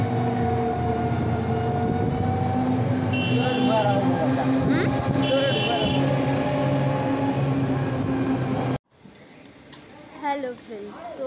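A train rolls past on a railway line, a loud, sustained rumble with a couple of brief high tones partway through. The noise cuts off abruptly, leaving quieter, uneven background sound.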